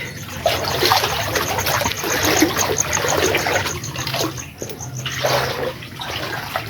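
Floodwater inside a house, heard as continuous splashing and trickling water close by with sloshing pulses, no talking.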